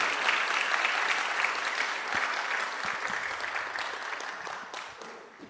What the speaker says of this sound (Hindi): Give a good clap to Jesus.